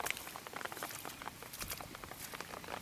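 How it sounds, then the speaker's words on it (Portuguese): Steady rain patters and spatters outdoors during an out-of-season downpour with thunder, a dense, continuous wash of drops with no clear thunderclap standing out. "tá até trovejando, ó, trovão no meio e chuva no outro"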